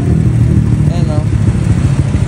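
Honda Click 125 scooter fitted with a Kenochi K2 exhaust, its engine running and revving steadily close by with a continuous low rumble for a couple of seconds, voices faintly present.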